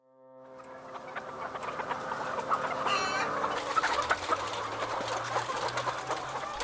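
Many chickens clucking together, a dense, steady chorus of squawks and clucks that grows fuller and louder as it continues.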